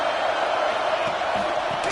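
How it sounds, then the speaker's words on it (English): A large stadium crowd roars steadily at an LSU football game, a dense, continuous wash of cheering with no clear breaks. An announcer's voice sits faintly beneath the noise. "Listen to the crowd energy here in the early going"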